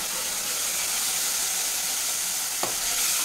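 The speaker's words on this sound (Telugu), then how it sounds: "ఇది పేస్ట్ ఉంది కదా, టమాటా ప్యూరీ, ఇది ఇప్పుడు వేసేస్తున్నాను ఇక్కడ." Tomato puree hitting a hot pan for a dhaba-style aloo curry, giving a steady broad sizzle and hiss close by, with a brief sharper crackle near the end.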